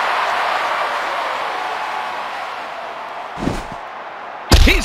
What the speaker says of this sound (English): Oh, do you hear that crowd?